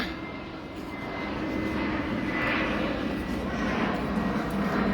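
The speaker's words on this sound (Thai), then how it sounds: "เครื่องบินมา" An airplane flying overhead, a steady broad engine drone that holds at a constant level for several seconds outdoors at a children's play spot, with voices faintly audible underneath.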